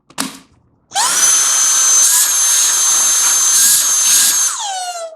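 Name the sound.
cordless vacuum cleaner running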